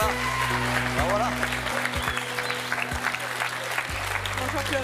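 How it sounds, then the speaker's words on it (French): An audience at a French television talent show applauds a newly introduced guest, with steady, moderately loud clapping running for several seconds beneath a host's voice. "Il s'agit de Clovis, que je vous demande d'applaudir."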